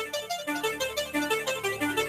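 A bouncy synthesized soundtrack from the video game Digimon: The Revenge of the Digis, with a steady pulsing beat and bright chiptune-like melody notes, playing continuously at moderate volume with no voices.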